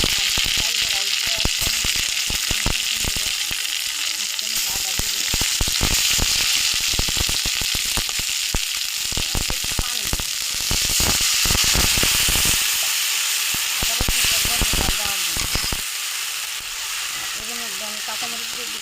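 Chopped onions sizzle loudly while frying in oil in a pan, stirred with repeated scraping strokes throughout, a steady hiss with clustered stirring clatter that eases toward the end.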